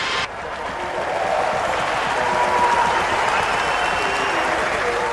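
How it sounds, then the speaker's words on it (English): Crowd applause at the British Grand Prix, a broad wash of distant clapping and cheering from grandstand spectators that swells after a brief start and holds steady throughout. "you can hear the applause from the crowd as they see these pictures like us for the first time"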